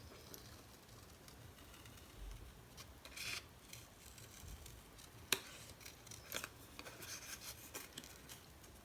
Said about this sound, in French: avec ma paire de ciseaux, je viens découper les éléments